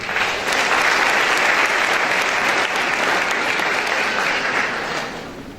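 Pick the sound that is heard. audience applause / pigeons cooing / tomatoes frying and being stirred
audience applause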